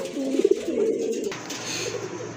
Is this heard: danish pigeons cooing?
yes